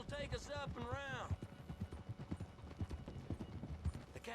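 Horse hooves clip-clop in the Red Dead Redemption video game, a steady uneven series of soft thuds from several riders on a road. Someone speaks briefly over the start.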